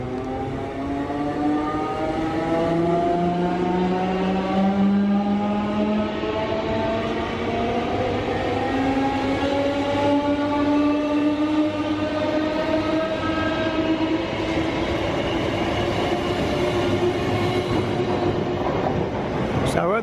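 Docklands Light Railway trains at Stratford station, one departing as another arrives, with a loud continuous rumble and rising and falling whine of traction motors.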